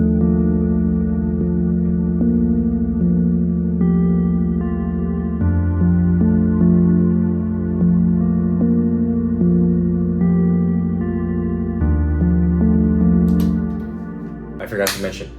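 The Purple Lullaby synth preset from the Flex plugin plays a mellow, sustained chord-and-melody line for a lofi beat, shifting notes every few seconds before fading into a brief clatter at the end.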